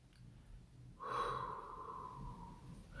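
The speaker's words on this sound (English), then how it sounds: "It's breathing in, holding that breath," A slow, deep meditative breath drawn in and held, a soft airy inhale rising after a quiet second and sustaining steadily to the end, close and alone without speech.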